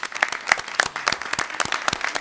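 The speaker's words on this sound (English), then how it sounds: "Let's give them a round of applause." Moderate applause from a seated audience at a village board of trustees meeting, honoring a color guard. The claps are distinct and fairly sparse, with a few louder ones standing out.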